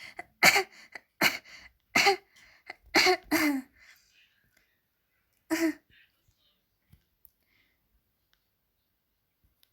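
A person coughs and clears their throat in a quiet room indoors, several short, sharp bursts over the first few seconds, then one more after a pause, followed by near silence.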